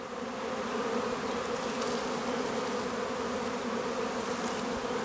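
A good-sized bee swarm buzzing in a low tree, heard from right inside it: a dense, loud, continuous drone with no pauses.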